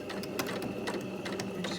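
A sewing machine runs a 2.5mm straight stitch and back stitches at the start of a fabric hem, giving close, rapid, rhythmic needle clatter in short bursts with no voice over it.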